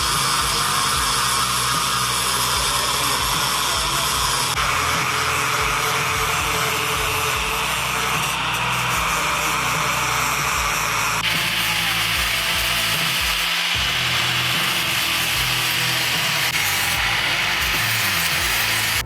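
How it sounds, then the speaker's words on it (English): An angle grinder with a flap disc grinding on a Jeep repair, a loud continuous abrasive whine and rumble that shifts in pitch as pressure changes, close and sustained throughout. "think this is gonna be way easier with my angle grinder and get the flap disc on here"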